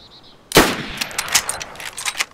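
A sharp, loud gunshot in the survival game DayZ, followed by a quick string of fainter echoing shots and impacts over about two seconds, with no talking.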